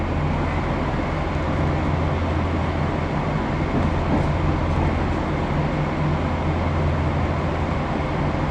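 A 1995 stock London Underground train running slowly between Paddington and West Ruislip, a steady low rumble and hum of wheels and motors heard from inside the carriage, even and continuous with no talking.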